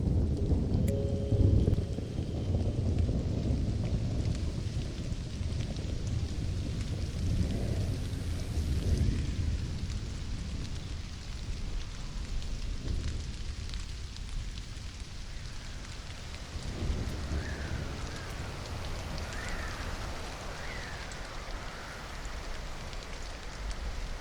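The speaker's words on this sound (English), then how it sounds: "Thunderstorm." Rain patters steadily during a thunderstorm in the Stranded: Alien Dawn video game, with low rumbling thunder swelling early on, a constant wash of falling water throughout, and faint tonal game sounds drifting in later.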